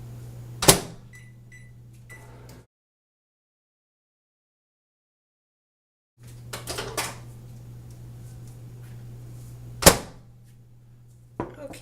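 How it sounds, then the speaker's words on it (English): A microwave oven melts soap base. Its low, steady hum runs alongside clicks and a sharp clunk, stops completely for several seconds, then resumes with more clatter and another loud click. "pop this in the microwave while it solidifies"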